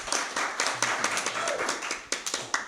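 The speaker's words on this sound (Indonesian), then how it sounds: "Tepuk tangan dong." An audience at a music festival claps briefly after an interview on stage, a short patter of hands with distinct individual claps standing out, fairly close and loud.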